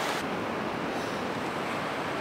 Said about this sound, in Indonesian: ini lagi di Pantai Wonosari, tepatnya di Watu Kodok